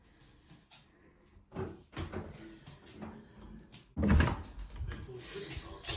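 Door to the downstairs loo of a holiday cottage in Padstow, Cornwall, heard in a few soft knocks and then a louder thud as it opens, with people talking and moving around it.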